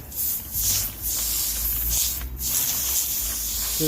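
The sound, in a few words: garden hose light spray watering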